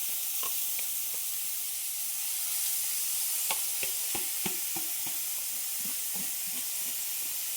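Wild greens tossed into a hot pan of golden-browned oil hiss in a steady, fairly faint sizzle, dotted with small pops and occasional stirring clicks, with no one speaking.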